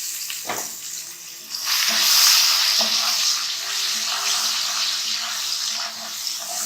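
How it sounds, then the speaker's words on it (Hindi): Ginger and garlic frying in oil for an aloo karahi potato dish, a loud continuous hiss and sizzle that swells after a couple of spoon knocks, close by, with no talking. "ये थोड़ा सा फ्राई हो जाएगा।"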